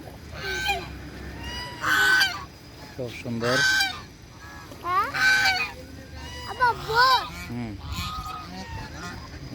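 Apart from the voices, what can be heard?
ducks honking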